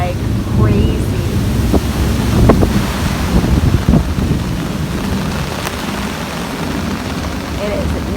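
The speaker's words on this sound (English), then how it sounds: "it is storming like crazy" Strong gusts of stormy wind in a thunderstorm buffet the microphone in a constant low rumble, with occasional louder blasts and faint voices beneath.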